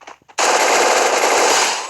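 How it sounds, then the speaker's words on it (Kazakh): A loud burst of sustained automatic gunfire in a video game kicks in abruptly after a brief quieter moment and hammers on without pause, with no talking over it. "Мына мен атысып атырмын."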